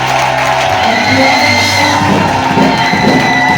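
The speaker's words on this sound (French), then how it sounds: "acclame le Seigneur fortement" A church congregation cheers and shouts loudly during an evening sermon, a dense, steady roar of voices over sustained keyboard tones.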